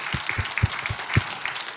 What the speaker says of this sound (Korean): 한번 박수 한번 칩시다